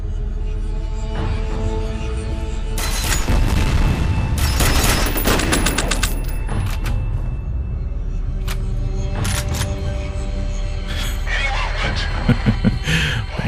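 Dense gunfire and booming explosions from the first-person shooter game F.E.A.R., with rapid bursts of shots, heavy blasts and clattering debris filling the whole stretch at high volume.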